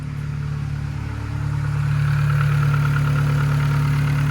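A Volkswagen Polo engine, freshly restarted after a clutch replacement, idles close by. A steady hum with a faint clatter runs evenly, growing slightly louder after the first second and then holding level, with no voices.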